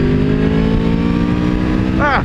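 An Aprilia Tuono V4 1100 Factory motorcycle accelerates with a loud, close engine drone that holds a steady pitch, then sweeps upward sharply at the end.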